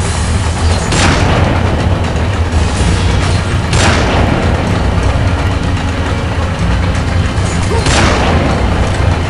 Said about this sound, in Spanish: Alguien me dispara, pero no lo veo.